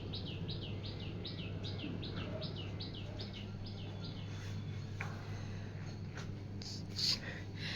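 Birds chirp from outside a home room: a quick run of repeated bright tweets at the start, then scattered fainter calls, soft and distant over a constant low hum.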